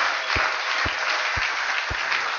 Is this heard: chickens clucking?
no